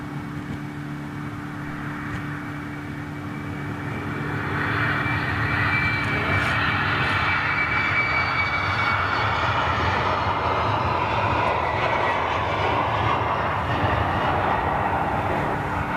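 A jet taxis at Amsterdam Schiphol airport, its engine noise a steady broadband roar that swells after a few seconds and holds loud and constant.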